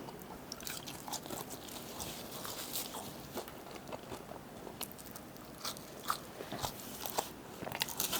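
Close, crisp crunching and biting of McDonald's fries at midnight, a steady run of small irregular crunches at moderate level with no talking.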